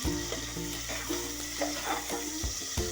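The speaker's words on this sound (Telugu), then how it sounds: "ఆనియన్స్ కొంచెం రెడ్ కలర్లో వచ్చేలా వేయించుకోవాలి." Onions fry in oil, browning toward a reddish colour for tomato bath, with a continuous close sizzle, a low steady hum beneath and scattered light stirring clicks.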